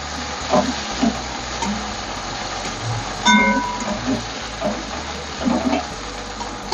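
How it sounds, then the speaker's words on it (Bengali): Bitter gourd pieces fry lightly in oil in a pan for a Bengali curry, with a moderate continuous sizzle broken by intermittent stirring knocks and scrapes and no talk. "কড়া করে ভাজতে হবে না, অল্প করে ভাজলেই হবে।"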